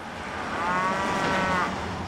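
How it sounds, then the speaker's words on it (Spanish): A single long cow moo, steady and fairly loud, held for about two seconds with no talk over it, from a cow being carried in a trailer. "¡Voy con la vaca!"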